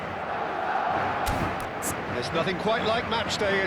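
Stadium crowd noise from an eFootball video game, a broad steady roar with rising shouts and a few sharp bangs, heard under a commentator's talk.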